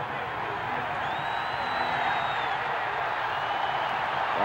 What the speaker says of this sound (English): The crowd comes up for the kickoff with 11:21 to play in the third quarter.